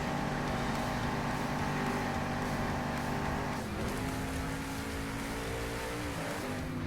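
Monster trucks racing and crushing over cars in the video game Monster Jam Steel Titans 2, a continuous loud engine roar with shifting revs and a dip in pitch midway, no talk.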